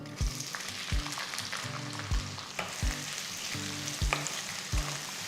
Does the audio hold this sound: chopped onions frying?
yes